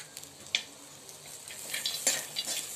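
Onion, garlic, ginger and cashews sautéing in a pan: a soft, fairly faint sizzle with scattered spatula scrapes and light metallic taps, no talking.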